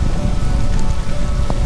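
Loud, close rain and wind roar in a constant rumbling wash, with buffeting gusts and a few sharp drip hits, during a hard storm on a bike-packing ride.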